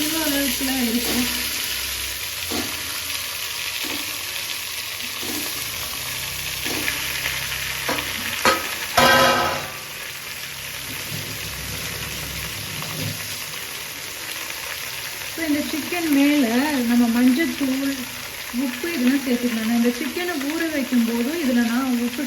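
Chicken pieces frying in a pan for Tamil-style chicken varuval, with steady sizzling and scraping stirs, a louder clatter around nine seconds, and a person talking over the cooking in the later part.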